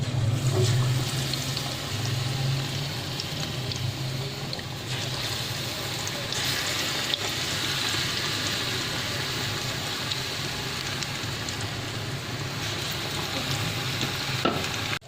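Coated fish frying in hot oil makes a steady, close bubbling sizzle that continues for the whole stretch, with faint kitchen handling sounds underneath.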